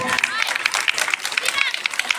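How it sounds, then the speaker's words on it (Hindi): Crowd clapping for a school Republic Day programme at Shivani Kashyap Public School in Bhojipura: a brief, dense burst of applause with a voice over it. "इस प्रोग्राम के लिए तालियां बजनी चाहिए जोर से"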